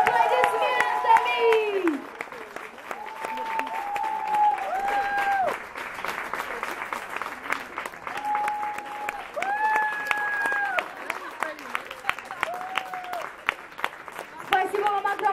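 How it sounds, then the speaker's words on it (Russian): Steady clapping from the audience at a festival's final award ceremony, with loud whoops and cheering voices rising above it, lasting throughout. "Встречаем, друзья, бурными аплодисментами!"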